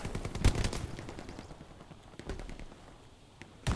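Video game enemy gunfire crackles in scattered shots and short machine-gun bursts, moderately distant and sharp, with quieter gaps between volleys and a final loud shot at the end.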